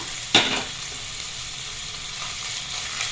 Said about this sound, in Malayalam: അതിലേക്ക് അര ടേബിൾ സ്പൂൺ വെളിച്ചെണ്ണ ആദ്യം നമുക്ക് ഇഞ്ചി വെളുത്തുള്ളി ചതച്ചതിട്ട് കൊടുക്കാം